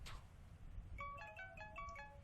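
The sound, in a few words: creepy phone ringtone in a video game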